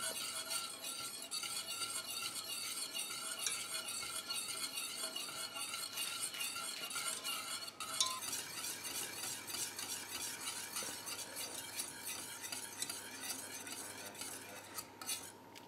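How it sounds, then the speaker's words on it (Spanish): A spoon scrapes and clinks steadily around a pot as an orange mixture is stirred over low to medium heat, with faint sizzling beneath the continuous rhythmic stirring. "lo vamos a hacer a fuego bajo medio y sin dejar de remover para que no se nos pueda agarrar al fondo"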